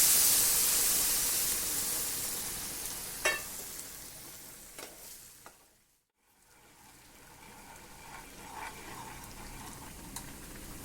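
A pan of semolina and hot water hisses and sizzles softly while being stirred, with a few scraping clicks; the hiss fades out briefly before resuming.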